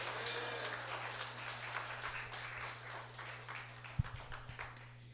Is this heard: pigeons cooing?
no